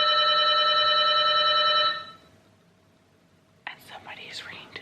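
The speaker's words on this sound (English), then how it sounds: "somebody is ringing the doorbell" Doorbell ringing in a quiet home early in the morning, a sustained electronic chime held for about two seconds, then silence, followed by a whispered voice.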